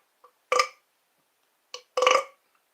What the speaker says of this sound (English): if you burp during you sing